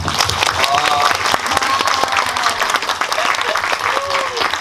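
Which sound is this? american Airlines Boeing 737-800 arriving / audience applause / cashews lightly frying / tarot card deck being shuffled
audience applause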